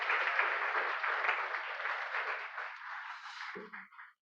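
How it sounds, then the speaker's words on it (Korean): Congregation in a church service breaks into sustained applause to welcome a newcomer, a dense, steady clapping from many hands that carries on for several seconds before tapering off quickly at the end. "우리 일어나실 때 박수로 환영해 주시기 바랍니다"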